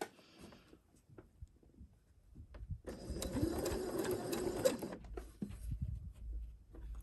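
A sewing machine runs in one fast, steady burst of stitching for about two seconds while curved quilt pieces are joined, preceded and followed by quiet handling of the fabric.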